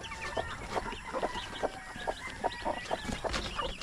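Brooding hen on a clutch of eggs clucking in short, repeated soft bursts at a steady rhythm, close by, with farmyard ambience behind and no talk.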